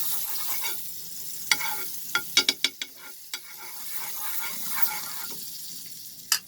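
Butter sizzling in a heated pan, a steady close hiss of frying with scattered sharp pops and scraping clicks as it spreads across the surface.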